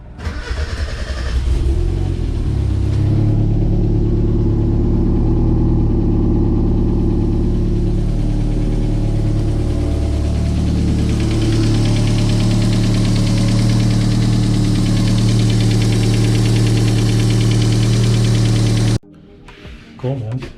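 A Mazda Miata engine cranks, catches and runs loud and close with uneven, knocking revs for most of the stretch before cutting out abruptly near the end, a voice briefly audible over it.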